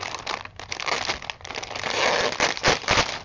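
A clear plastic bag stapled inside a handmade photo book is crinkled and rustled, a steady close crackling texture that swells louder toward the end.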